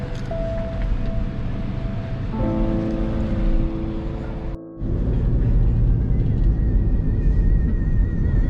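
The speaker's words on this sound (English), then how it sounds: "is a very busy place with lots of tourists and lots of boat activity." Boat engines rumble and drone with a wash of water and wind, tones shifting as vessels pass close by in a busy tourist marina in Thailand.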